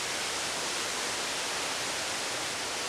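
River rapids roar as a steady, dense rush of whitewater heard from upstream around a bend, a loud continuous wash with no voices.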